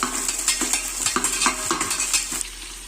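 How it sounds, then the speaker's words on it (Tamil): A utensil stirs and scrapes steadily in a pan where curry leaves, coriander leaves, green chilies and mint fry for chicken biryani, with rhythmic clinks over a soft sizzle and no talking. "கருவேப்பிலை போட்டுக்கோங்க, கொத்தமல்லி தழை, பச்சை மிளகாய், புதினா, இதெல்லாம் போட்டு நல்லா கலரி வச்சுக்கோங்க."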